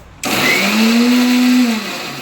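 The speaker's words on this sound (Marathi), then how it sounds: "मिक्सरमध्ये मटेरियल वाटून झालेलं आहे" A kitchen mixer grinder whirs loudly while grinding ingredients for a vegetable dish. It starts suddenly and holds a steady, high motor whine for about two seconds, then begins to fade.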